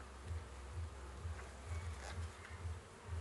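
Bees buzzing steadily around an open hive during an inspection, a close, continuous droning hum with faint pulsing swells.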